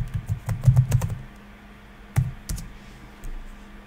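Keys clack on a computer keyboard as a username and password are entered, a quick close burst of typing followed by a pause and a few more isolated keystrokes.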